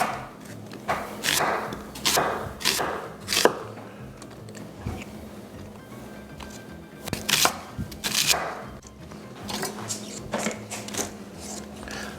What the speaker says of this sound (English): we're just gonna give this a rough chop